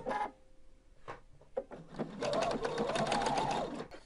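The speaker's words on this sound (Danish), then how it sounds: "Og her skal jeg så lave min almindelige ligeudstikning." A sewing machine runs a straight stitch over belt loops with a Clover seam guide fitted, starting with short clicks and bursts before settling into a steady close whir, then stopping.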